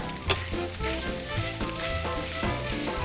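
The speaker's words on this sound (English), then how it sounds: "So you can just start kind of mashing the tofu up into little smaller pieces at this time." Tofu is broken up with a utensil as it fries in a pan for a sofritas burrito filling, giving a steady sizzle with occasional soft knocks, partly masked by background music.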